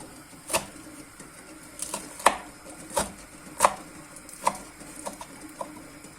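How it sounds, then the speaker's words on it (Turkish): Knife chopping wild herbs on a board for a salad, a series of sharp irregular cuts spaced about a second apart, close and moderately loud, no talking. "Yumurtamız kaynarken de otlarımızı doğramaya başladık."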